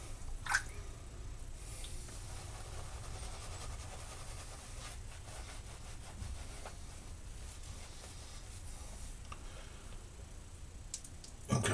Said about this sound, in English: Because this brush has a lot of water, there's going to be a lot of water come out, but there's still a lot of nice cream, nice lather.